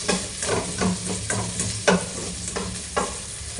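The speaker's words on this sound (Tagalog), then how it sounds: "Haluhaluin lang natin yung ating bawang at sibuyas." Garlic and onions frying in a pan for arroz caldo are stirred in repeated scraping strokes over a steady close sizzle, with no voice.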